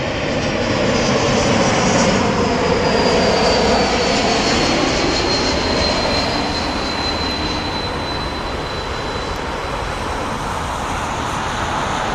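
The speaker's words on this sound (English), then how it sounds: "Swiss coming in with the Airbus A220." A Swiss Airbus A220 jet on approach to land at Heathrow Airport, a loud, continuous engine roar with a thin high whine that holds steady throughout, heard alone from fairly close.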